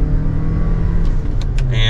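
Cabin of a 2024 Lexus NX 450h+ Luxury hybrid SUV pulling out of a sharp left turn, with a steady low engine and road drone and a faint rising whine, plus brief soft clicks near the end.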